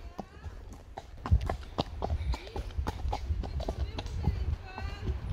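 Small horses trotting, hooves clip-clopping in a quick, uneven rhythm close by, with a low rumble of movement underneath and people's voices chatting over the hoofbeats.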